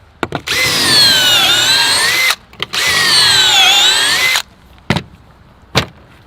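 Two long bursts of a power drill boring pocket holes into a stair tread with a Kreg jig, each whine lasting about two seconds, followed by a few short clicks and knocks, loud and close.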